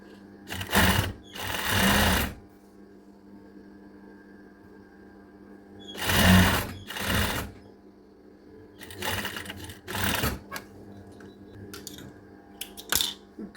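Sewing machine stitching a women's shirt with cuffs, running in several bursts of steady whirring, some long and some short, separated by pauses, close and fairly loud with no talk.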